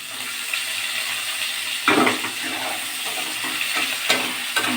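Whole onions and tomato fry in a pan with a steady bright sizzle, broken by occasional stirring scrapes and small splashes, close and continuous.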